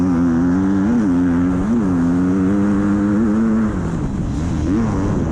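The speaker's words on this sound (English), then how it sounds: "Power of that KTM popping wheelies down the start." KTM motocross bikes roar off the start line at an MX2 race on a primed dirt track, engines loud and sustained with rising and falling revs as they accelerate, one dominant whine easing off near the end.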